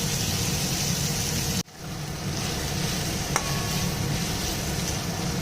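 Eggplant and potato fry with turmeric as they are stirred in the pan, a steady broad sizzle that cuts out abruptly for a moment, then resumes with a single sharp clink.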